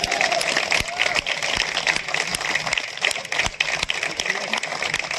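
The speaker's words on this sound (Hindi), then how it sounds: "एक बार जोरदार तालियां विशाल जी के लिए" Loud, sustained applause from an outdoor nautanki theatre audience at Chhatar Manzil, Kaiserbagh, Lucknow, clapping for the dholak player, with dense overlapping claps and a few sharper nearby hand slaps throughout.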